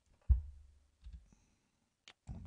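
A computer mouse button clicks a few times, close and distinct, with short gaps of quiet between the clicks.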